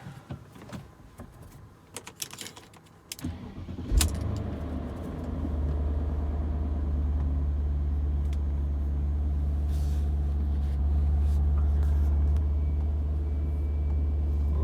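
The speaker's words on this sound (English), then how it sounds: "I'm gonna fire up the car here." An old car being started: a few seconds of clicks and rattles, then the engine catches with a thump and settles into a loud, steady idle rumble that carries on to the end with no talk.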